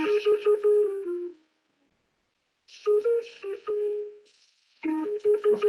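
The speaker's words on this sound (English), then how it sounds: "in a moment, you're going to hear the numbers being played to the spies, right?" Numbers station broadcast playing a repeated melodic tone sequence, like a phone ringtone, in three bursts separated by silent gaps, with a clear tonal pitch pattern on a radio.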